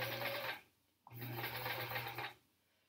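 Sewing machine stitching quilt fabric, two quick runs of steady whirring separated by a short pause, close and fairly quiet.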